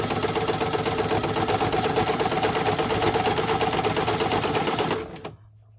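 Sewing machine stitching paper scraps for junk journal clusters, a loud, rapid, steady mechanical chatter of the needle running continuously before stopping abruptly near the end.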